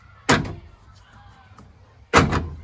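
On a C4 Corvette, the power door lock actuator fires twice: two sharp mechanical clunks about two seconds apart, each trailing off quickly, with a quiet low hum in between.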